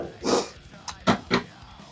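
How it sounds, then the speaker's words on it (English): A dog barks in a home kitchen where whole wheat pancakes are cooking, a few short sharp barks at moderate distance, one longer bark followed by two quicker ones. "You hear my dog bark."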